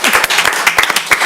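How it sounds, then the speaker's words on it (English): Applause from attendees at a city council meeting, a short burst of dense, steady clapping from a room of people with no talking over it. "So everyone, clapping for Adam."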